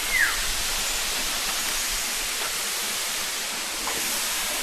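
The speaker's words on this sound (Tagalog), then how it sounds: "Tara, puntahan na natin yung waterfalls." Kawasan Falls in Balilihan, Bohol, pours with a steady, even rushing roar of falling water that fills the air without pause.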